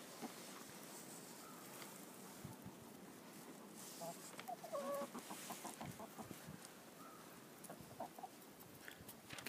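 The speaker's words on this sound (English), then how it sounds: "Now you can video chickens." Chickens cluck softly and intermittently at a distance, quiet against a faint background, with occasional low voices nearby.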